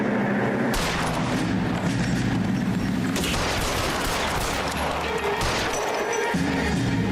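A Browning Automatic Rifle fires in LA Noire, sustained loud bursts and booming shots packed together with crashes and battle noise, dense and continuous throughout.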